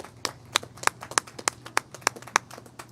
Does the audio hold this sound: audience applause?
yes